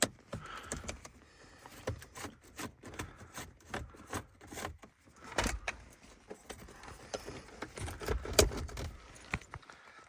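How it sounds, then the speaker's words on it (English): Screws are worked out of the head unit in a Mercedes W124 dashboard, giving close, irregular metallic clicks, taps and scraping rattles in quick uneven bursts, with no talking. "I just need to take these two screws off."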